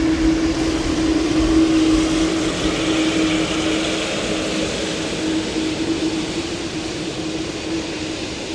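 An Aer Lingus airliner departing Dublin Airport for JFK, a steady broad engine roar with a sustained tonal whine, heard from a distance and fairly loud throughout, with no voices.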